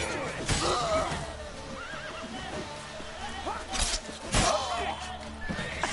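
A horse in the video game The Witcher 3 whinnies several times in rising and falling calls, mixed with sharp impact thuds and clattering from a fight, with some voice-like sound in between.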